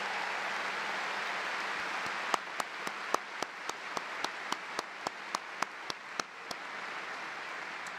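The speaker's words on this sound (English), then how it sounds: "Why don't we give them a round of applause" At a class of 2018 graduation ceremony, a string of about fifteen crisp, evenly spaced claps rings out over a low murmuring hall, starting after a couple of seconds and fading out before the end.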